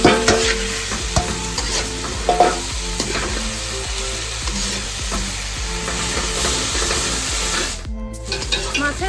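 Big Katla fish heads go into a spice masala and fry with a continuous loud sizzle, while a spatula stirs and scrapes the pan in repeated bursts close by. There is no talk.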